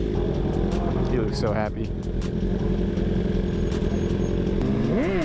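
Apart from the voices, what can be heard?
Yamaha R1 motorcycle engine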